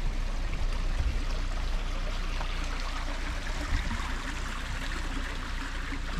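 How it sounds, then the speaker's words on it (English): Continuous rushing water of a creek at Meador, Mingo County, West Virginia, fills the scene, a steady broadband flow with low rumble, close and fairly loud, with no voices. "Creek running down through here."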